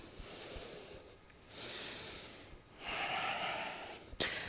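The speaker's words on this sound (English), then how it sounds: "Breathing into that space." Breathing during a yoga flow while walking out downward facing dog, two long audible breaths through the nose, an airy inhale then a fuller exhale, close and fairly loud, ending in a short sniff.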